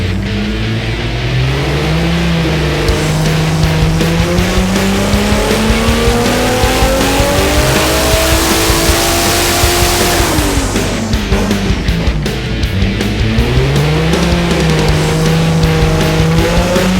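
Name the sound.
1JZ-swapped Nissan 350Z doing a dyno pass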